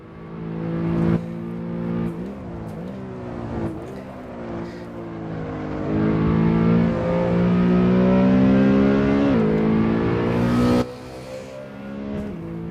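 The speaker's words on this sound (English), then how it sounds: "you can hear the engine, the revs changing as it goes over the bump" A video game race car engine revs loudly and continuously on the Nordschleife, its pitch rising and falling sharply as the revs change over bumps, with no talking.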